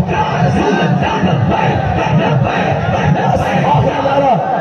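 A large crowd at a long-march political rally chants slogans loudly and continuously, a dense roar of many voices shouting together.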